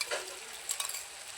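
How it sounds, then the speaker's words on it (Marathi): Blended tomato puree sautés in hot oil in a pan for rajma, with a soft, steady sizzle and a few light stirring scrapes, fairly quiet. "टोमॅटोतले पाणी सगळे कोरडे होईपर्यंत आपण छान असे परतून घेणार आहोत"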